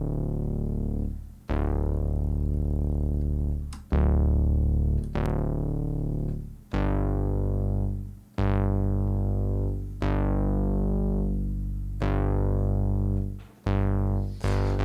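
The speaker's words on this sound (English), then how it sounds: "Kind of a funky synth sound." Funky synthesizer with a distorted, effects-laden tone, playing a series of about nine struck notes at a steady pace, each decaying and cut off before the next, loud and alone.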